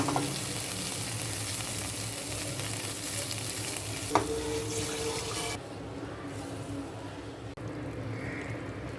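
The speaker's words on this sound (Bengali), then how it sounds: "কই মাছ ভোনা করব পেঁয়াজগুলো ভেজে নিচ্ছি" Onions frying in a pan for a koi fish bhuna, a steady close sizzle with stirring that drops slightly in level partway through, with no talking.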